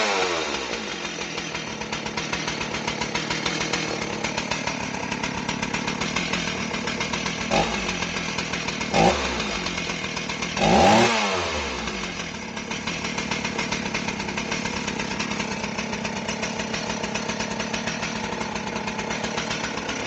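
A Stihl 038AV chainsaw being rehabilitated after flywheel-side crank seal replacement runs steadily at a close, even idle, with a brief blip of revving partway through and no talk.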